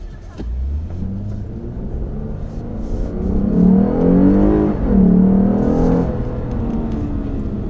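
A Lexus RC 350 F Sport with a 306-horsepower engine runs on a race track, its steady engine drone swelling as it accelerates and then easing off, loud and close, with no talk over it.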